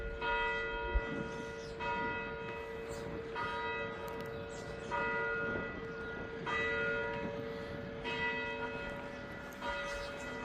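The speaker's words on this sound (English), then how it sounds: "12 bells." The bell of the NG Kerk in Sutherland, Northern Cape, strikes twelve at noon, slow evenly spaced resonant tolls ringing out over a light outdoor background.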